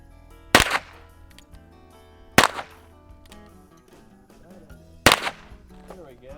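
A Ruger Single Six revolver with a 9-inch barrel fires three sharp, loud shots spaced about two seconds apart outdoors, each followed by a short echo, with quiet background between.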